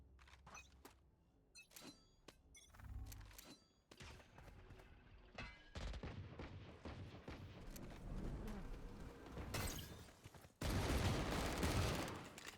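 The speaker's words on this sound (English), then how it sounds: "Nice shots from G-Man there with the stinger" Rapid Stinger submachine-gun bursts in a Valorant esports match, sharp clustered shots and thuds building to a dense loud barrage near the end, with no talk over it.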